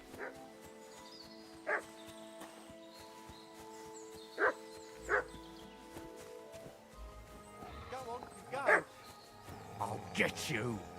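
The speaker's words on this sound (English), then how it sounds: "I hear a dog." A dog in Kingdom Come Deliverance 2 barks repeatedly at a distance, sharp single barks spaced several seconds apart that grow denser toward the end, with voices around them.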